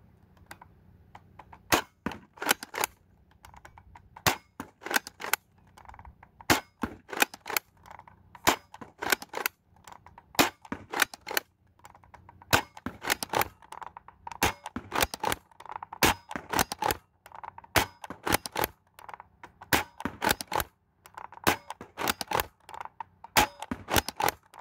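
A Dart Zone Nexus Pro X toy blaster fires Worker foam darts in quick succession, sharp snapping cracks in rapid clusters and bursts with short pauses between, close and loud.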